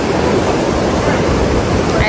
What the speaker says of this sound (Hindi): तो देखिए काफ़ी ज़्यादा बहाव है इस पानी का